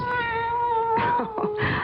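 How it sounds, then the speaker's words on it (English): A scrawny, hungry-looking kitten meows several times, starting with a long sustained wail and followed by shorter rising cries, close and clear with a faint voice underneath. "Poor, scrawny, hungry-looking kitten."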